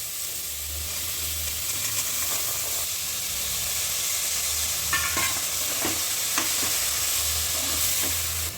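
Mutton bones and lentils fry in a pan for mutton kaima saaru, giving a continuous hissing sizzle close by with occasional sharper crackles and pops.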